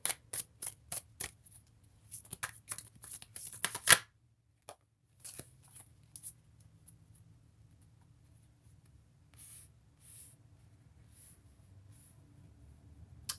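Tarot cards shuffled by hand, with a burst of crisp, rapid riffling and slapping close up, followed by softer scattered card handling that fades to faint rustles.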